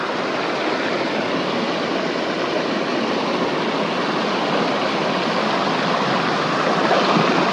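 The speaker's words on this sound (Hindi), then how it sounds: "पानी का फ्लो बहुत ज़्यादा है" Water on the Arind river pours strongly over a check dam, a loud, steady broadband rush of flowing water that holds at the same level throughout, close by, with no voices.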